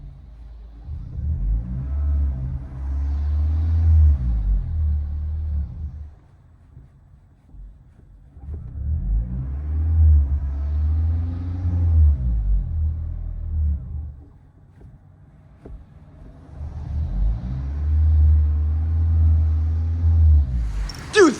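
Heard from inside the cabin, a 2012 Toyota Prius with a muffler delete and Vibrant resonator booms low and deep in three separate rev-ups, each rising and falling for several seconds with quiet gaps between them.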